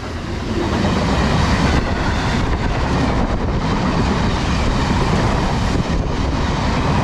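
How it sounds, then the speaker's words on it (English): Class 66 freight locomotive 66-100 roars past on the Birmingham to Bromsgrove and Redditch line, a loud, sustained rush of engine and wagons running close by without a break. "passing through now, we have some freight"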